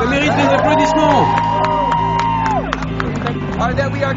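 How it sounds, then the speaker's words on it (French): A large rally crowd applauds and cheers, dense clapping mixed with rising whoops and shouts, loud and sustained, with babble throughout. "Ça mérite des applaudissements."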